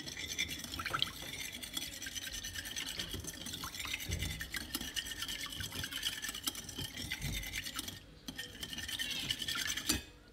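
Milk, egg and oil mixed by hand in a mixing bowl for apple cinnamon crumble muffins, a steady close scraping and sloshing of a utensil against the bowl that runs continuously, briefly dipping near the end.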